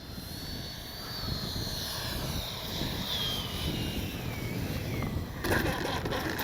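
FMS Avanti S 70mm electric ducted-fan RC jet coming in to land on a runway with flaps down, a steady high whine that slowly descends in pitch over moderate wind noise, followed by a brief rattling touchdown.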